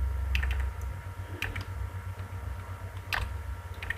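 HTML code is typed on a computer keyboard, with short clusters of crisp key clicks separated by pauses, close up over a low background hum.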